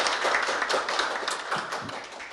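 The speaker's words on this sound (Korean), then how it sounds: "큰 박수 부탁드릴게요" An audience at an energy-transition strategy forum claps together in a brief, even burst of applause, at moderate volume and without a voice over it.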